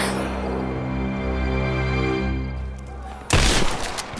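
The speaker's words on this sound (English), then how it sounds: "Gunshot!" A single loud gunshot-like burst rings out in the game Rise of the Tomb Raider, striking near the end after a steady droning, rumbling game ambience.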